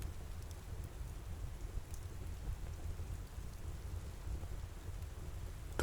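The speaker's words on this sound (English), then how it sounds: "The rain continues its steady whisper," Steady rain falls in an even, unbroken wash of soft hiss and low patter, with no voices and no clear thunder claps, holding constant throughout.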